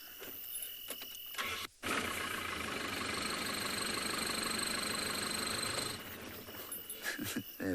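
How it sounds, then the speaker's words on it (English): A car engine cranks and catches on a nighttime safari drive with hyenas lurking beneath the vehicle, then settles into a steady idle for several seconds before dropping away, with faint crickets and brief rustles around it. "I'm actually going to start the car just to make them go away."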